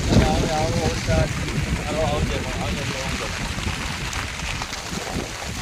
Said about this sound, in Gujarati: સારો વરસાદ ભાઈ જોરદાર પડ્યો.